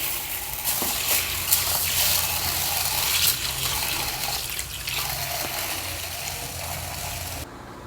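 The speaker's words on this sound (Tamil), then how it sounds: "இப்போ இதை நல்லா 2 தடவை கழுவி ஊற வைக்க போகிறோம்." Black urad dal is rinsed in water with steady sloshing, swishing and rattling of the lentils in a vessel, close and continuous for several seconds before it quiets at the end.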